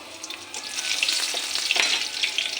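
Dry red chillies, bay leaves and chopped onion frying in a pan, giving a steady hissing sizzle with small crackles and a faint low hum underneath.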